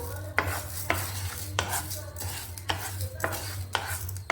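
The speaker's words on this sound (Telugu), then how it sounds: "మినపప్పు శనగపప్పు వేసి ఇట్లా వేయించుకోవాలి" Urad dal and chana dal roasting in hot oil, a soft sizzle broken by repeated scraping stirs of a spoon against the pan at a steady rhythm, close up, with no talking.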